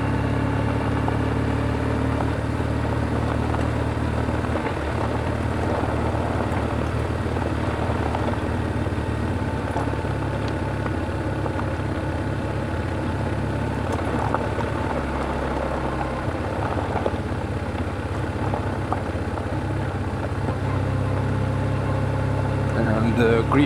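A BMW R1150GSA motorcycle riding over gravel: a steady, droning engine hum with wind rush and faint crunching, holding an even level throughout while someone talks over it.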